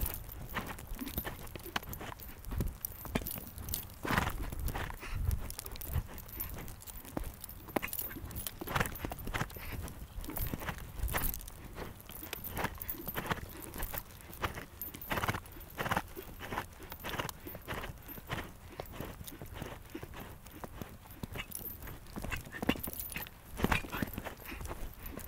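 A horse's hooves beat on the arena footing during a canter riding lesson, a continuous rhythmic thudding with crunchy surface noise throughout and no talk over it.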